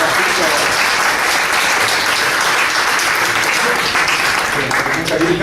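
An audience at a talk about the Walser mountain people breaks into loud, sustained applause, dense continuous clapping filling the room with voices mixed underneath.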